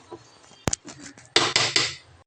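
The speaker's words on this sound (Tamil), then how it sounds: "நல்லா கொஞ்சம் கிண்டி விட்டுக்கலாம் இந்த பட்டாணி எல்லாம் இப்போ போட்ட" A spoon stirs green peas into rice in a cooking pan, giving a few close scraping clinks and sharp metal taps in short bursts, with no talking.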